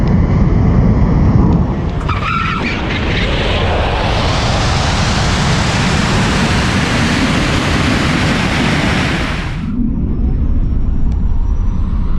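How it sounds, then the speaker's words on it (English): A Tesla Model S Plaid launches down a drag strip at the start of a race pass, a loud, steady rush of electric drivetrain and tire roar that swells and holds for several seconds before cutting off abruptly. "Car launched pretty good on that pass."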